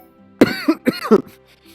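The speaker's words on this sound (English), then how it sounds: "I've been coughing a lot." A close, loud fit of two or three raspy coughs with throat clearing, then quiet.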